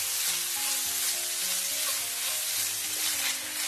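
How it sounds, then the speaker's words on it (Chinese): Minced pork stir-fried with scallion, ginger and garlic over medium-low heat, a steady close sizzle with faint scraping and stirring noises and no talking. "然后我们再下入葱姜蒜， 继续开中小火，将食材给它煸香"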